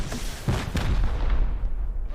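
A rocket explosion in the video game Rust: a loud, booming blast followed by a second burst and a rumbling tail that fades over about two seconds, with no talk.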